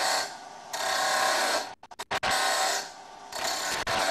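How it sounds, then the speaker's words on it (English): Wood lathe turning timber held in a Robert Sorby wobble chuck, with a light cutting tool making bursts of dry, hissing scraping that stop and start in short, choppy spells, close and fairly loud. "Turn the lathe on and proceed with the next cut."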